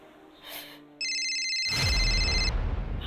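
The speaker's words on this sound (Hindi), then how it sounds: "आदि का फोन।" A phone rings in a tense crime-drama scene with a bright electronic ringtone lasting about a second and a half. A dramatic low musical swell rises beneath it.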